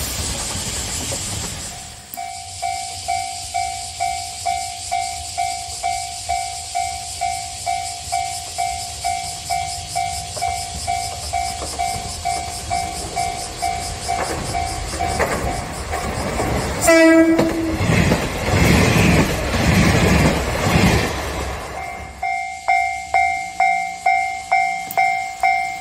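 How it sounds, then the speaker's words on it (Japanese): A KiHa 47 diesel train rolls past a level crossing in Kagoshima with steady rhythmic clatter of wheels over rail joints, sounding a loud horn midway, then the clacking continues as it moves on. "キハ47、 臼杵駅行きです。"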